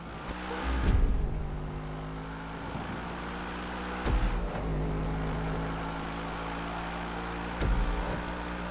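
Race cars tear around the track in GTA Online, engines droning loudly and steadily with three sharp surges as cars roar past close by, over about nine seconds.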